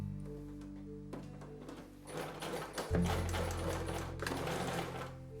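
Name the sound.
sewing machine stitching pleats on canvas bag fabric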